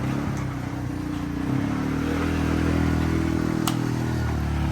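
An ATV engine drones steadily while driving offroad, a close, loud motor hum that rises slightly in intensity with a faint clatter, no talking.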